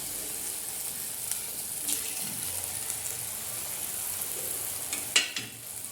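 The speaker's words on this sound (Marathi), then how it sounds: "आता याला आपण आता कढईमध्ये थोडंसं तेल घेऊन तळून घ्यायचे" Soft, steady sizzle of potato slices frying in oil, fairly quiet, with a brief clatter near the end.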